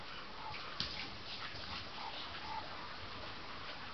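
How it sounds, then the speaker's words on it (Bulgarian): A dog whimpers quietly, giving a few soft, thin whines over low background noise, faint and close. "Куче, Бойко, кажи нещо."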